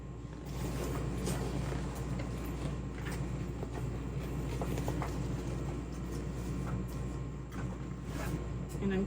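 A 1341 sewing machine runs continuously while stitching a bag gusset through multiple layers, giving a steady mechanical hum with light rhythmic ticking and clatter throughout, fairly close.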